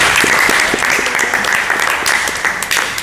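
A church congregation gives a loud clap offering, a thick, continuous round of applause with some sharper individual claps standing out near the microphone.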